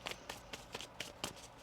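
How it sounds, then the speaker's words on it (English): Tarot cards being shuffled by hand, a series of about seven quick papery riffles and taps spaced irregularly, close and fairly quiet. "one more shuffle"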